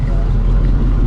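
A 1971 Pontiac Formula barn-find car's engine on its first drive in years, a steady loud low rumble lasting about a second with no speech.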